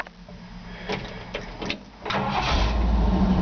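A 1953 Ford F-100 hot rod with a 351 Windsor engine, nearby. Mechanical clicks and knocks come first, then the engine catches and settles into a loud, steady low rumble.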